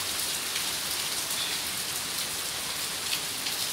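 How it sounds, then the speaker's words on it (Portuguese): Heavy morning rain pouring down in Campinas, São Paulo, a dense, steady hiss of drops on surfaces, loud and even throughout with no voices. "Hoje, pessoal, ó, foi uma chuvona."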